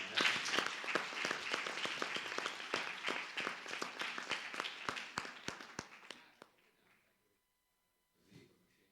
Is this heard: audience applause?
yes